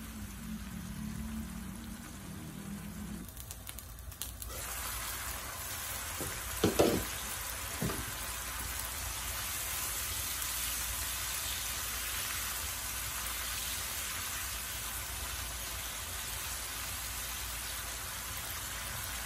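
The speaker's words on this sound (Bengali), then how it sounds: "মশলাটাকে এখন ভালো করে কষাবো।" Spice paste for rui fish bhuna fries in a pan with a steady, close hiss. A couple of brief stirring knocks rise above the sizzle midway, and no one speaks.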